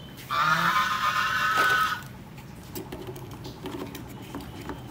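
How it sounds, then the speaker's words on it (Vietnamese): A goose honks loudly and close by in a home vegetable garden, one sustained nasal burst lasting under two seconds, followed by quiet rustling ambience. "ngỗng tò mò quá ngỗng ơi"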